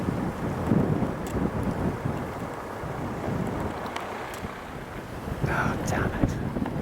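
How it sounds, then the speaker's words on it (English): Strong wind rushing in toward a large wildfire in Portugal, a loud, steady roar buffeting the microphone throughout, with voice-like sounds faintly mixed in. "The wind really picked up, rushing in to feed the fire."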